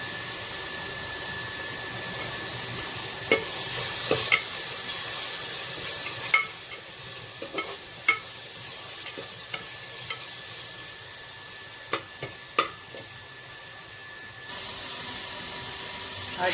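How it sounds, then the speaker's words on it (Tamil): Onion and garlic paste sautés in a pan with a soft, steady sizzle, quiet and close, broken by occasional sharp clicks and scrapes of stirring. "வெங்காயமும் பூண்டும் நைய நரங்க அரைச்சி வச்சது போட்டு நல்லா வதக்கிக்கணும்."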